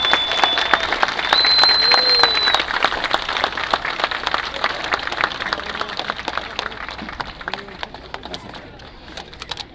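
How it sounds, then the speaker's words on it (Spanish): Loud audience applause at a Mexican Independence Day Grito ceremony as the Mexican consul general and guests of honour leave the stage, dense steady clapping that swells early and then gradually thins, with a bright whistle and scattered voices in the crowd. "para quienes pido un fuerte aplauso"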